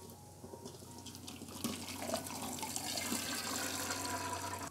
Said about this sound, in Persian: حالا این دلمه ها رو آبکش میکنم